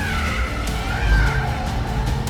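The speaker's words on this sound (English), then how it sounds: "The winner is the Maserati Gran Turismo Folgore, and here's Ollie Marriage doing some skids in it on a racetrack." Maserati GranTurismo Folgore electric car skidding on a racetrack, with tyres squealing and scrubbing continuously under a low whine, loud and close for a couple of seconds.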